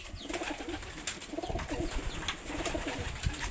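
Racing pigeons coo inside a coop, soft repeated low calls rising and falling over a steady background of rustling and faint chirps, fairly close and moderately quiet.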